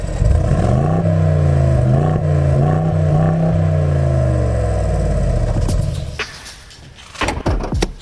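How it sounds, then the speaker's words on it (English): A 2021 Mercedes-AMG GLE63 S twin-turbo V8 with its exhaust valve open, burbling loudly and steadily through rising and falling revs for about six seconds, then cutting off into a few clattering knocks and clicks nearby. "if you flick this button, you actually hear a valve open, and then the exhaust becomes much more loud, much more burly."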